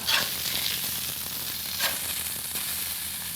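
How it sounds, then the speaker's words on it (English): Burger patty sizzling and frying on a Flambadou cooking plate right after being flipped, a steady close crackle with a few louder pops, with no talking. "Time to flip this burger around."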